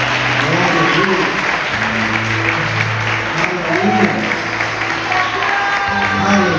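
A church congregation at a Portuguese-language worship service claps for Jesus, steady dense applause under sustained music or singing tones, loud and continuous from start to end.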